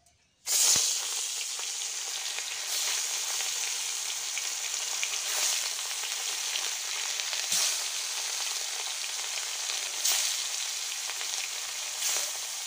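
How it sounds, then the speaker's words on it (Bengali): Rohu fish pieces fry in pure mustard oil during village-style cooking, producing a loud, steady sizzle that starts abruptly and continues unbroken, with faint crackles spread through it. "নিয়ে তারপরে মাছটা এক এক করে ভেজে ফেলবো"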